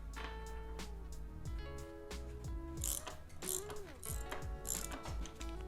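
The cap being tightened back onto a mountain bike rear shock, a run of close ratcheting clicks and metallic turning sounds with quick sliding squeaks, steady and moderately loud throughout.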